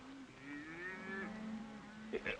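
Cattle low in a long, wavering moo that rises and falls, fairly close and clear, in a 1942 Western ranch setting, with a faint bump of other noise near the end.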